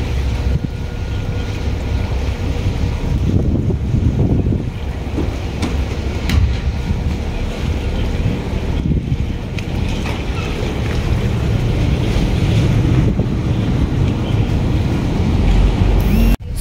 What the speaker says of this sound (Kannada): ಸೊ ಇದೇ ಉಬರ್ ಬೋಟ್.